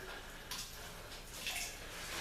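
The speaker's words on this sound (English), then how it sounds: "Pretty much what I'm doing is I'm just going to push out some of this water here" Soapy water squeezed out of a window-cleaning sponge, a faint wet swishing and trickling up close, alone without talk.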